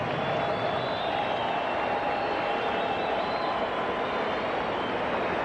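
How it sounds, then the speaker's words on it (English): A boxing arena crowd applauds in a sustained, even roar of clapping for Ray Arcel, dense and steady throughout with no break. "a final round of applause for this great member of the boxing fraternity"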